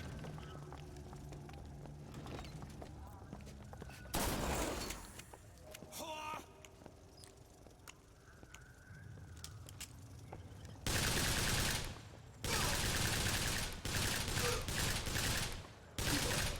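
Shotgun fire in the video game Bioshock Infinite, several loud, broadband blasts in separate bursts amid background game noise and some talk.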